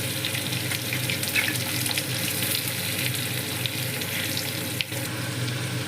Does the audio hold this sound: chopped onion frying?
yes